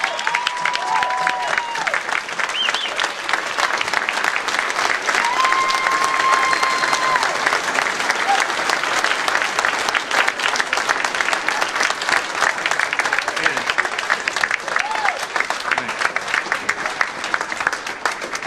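Sustained audience applause for Senator Byrd at a West Virginia heritage fiddler championship, a dense steady clapping that fills the room without letup, with no cheering standing out.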